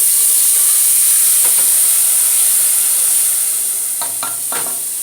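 A pork steak fries in a pan over too-high heat, producing a loud, steady hiss and sizzle throughout, with a few brief popping splatters near the end.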